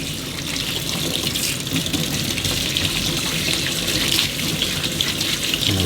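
A Gtech AirRam brush roll is rinsed under a running tap, the water pouring steadily and splashing loudly and close for the whole stretch with no talking.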